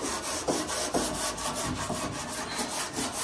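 Car body work is sanded with steady back-and-forth rasping strokes, a dense, continuous scratchy rubbing heard up close, with no talk.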